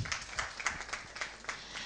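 An audience at a school gala dinner claps in a faint, quick patter of applause, heard from some distance for a couple of seconds.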